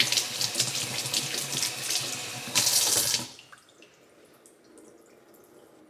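Water runs from a tap for about three seconds, a close, steady splashing stream as a potted plant is watered, then cuts off, leaving a quiet room with faint drips.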